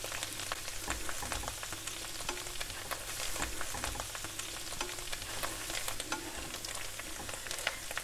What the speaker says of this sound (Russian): чеснок уже золотится, выкладываем наши креветки